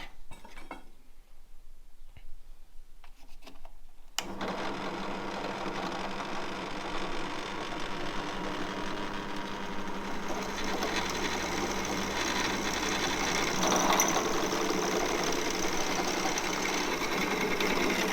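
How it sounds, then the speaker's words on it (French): After a quiet start, a drill press motor starts abruptly and keeps up a steady, even whir for about fourteen seconds. "avoir une colonne pour percer, c'est quand même le bonheur"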